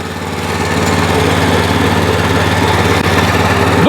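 The small engine of a walk-behind tractor runs loudly and close by, holding a steady, even drone with a constant low throb for the whole stretch.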